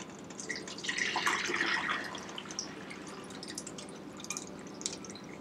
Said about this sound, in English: I'm gonna go ahead and put this wonderful liquid through a gravy separator